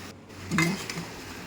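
Fried potatoes are stirred in a cooking pot, with a brief metallic clatter and scrape of the utensil against the pot over a quiet background.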